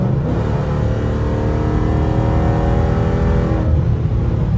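A Dodge Charger with an aftermarket exhaust revs hard and loud, a sustained throaty roar that rises in pitch and then drops off.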